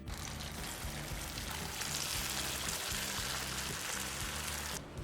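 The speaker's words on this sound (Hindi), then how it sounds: "और इसी तरीके से हम बाकी के भी पोहे कटलेट को तल लेंगे।" Poha cutlets deep fry in hot oil with a faint, steady, hissing sizzle that continues throughout.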